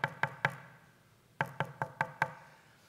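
Knocking on a door comes in two sharp, close groups: three quick raps, a pause, then five more in an even rhythm, with no voices.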